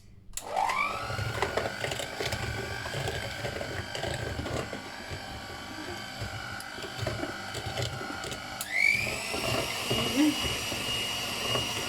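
An electric mixer whirs steadily as it whisks cake batter with milk and oil, spinning up at the start and surging again near the end, with faint voices in the background.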